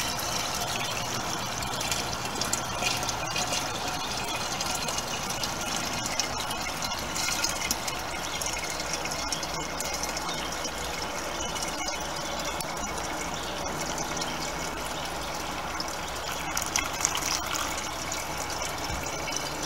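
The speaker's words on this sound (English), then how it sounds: "I'll just pour through here and all the big stuff should stay out of there." Liquid fertilizer is poured through row cover fabric into a sprayer, making a steady, continuous splashing and trickling close by with no pauses.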